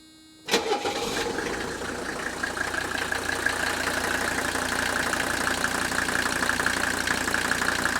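A 1985 Mercedes-Benz diesel engine cranks briefly and catches, then settles into a steady, close, rattling idle with a constant knocking clatter that continues alone to the end.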